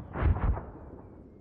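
Artillery shells explode in Arma 3, two heavy low booms in quick succession, then a rumbling echo that fades, heard alone.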